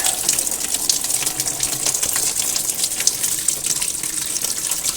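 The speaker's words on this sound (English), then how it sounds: "And there goes the coolant." Coolant gushes steadily from a 2015 VW Jetta 1.8T TSI engine during an oil cooler replacement, a continuous close, fairly loud splashing pour with no voices.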